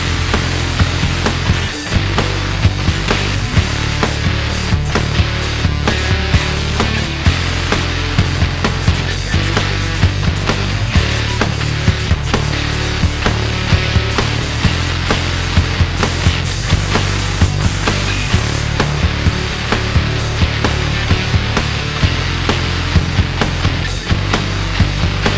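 Spray gun laying down Merlot Pearl base coat on car body panels in a dirty garage, a loud continuous hissing spray close by with brief interruptions between passes and no talking.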